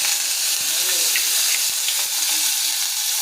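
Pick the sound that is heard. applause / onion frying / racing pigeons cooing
onion frying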